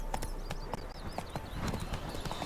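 Roach the horse trots in The Witcher 3: Wild Hunt, Hearts of Stone, rhythmic clip-clop hoofbeats close by under a faint game ambience with bird chirps, steady and even.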